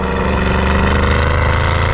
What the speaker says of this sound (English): the majestic engine pays for everything